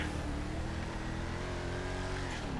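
A car in the GTA 5 video game roars past at speed, its engine note steady and loud with a slight pitch sweep as it goes by, filling the whole stretch with no talk.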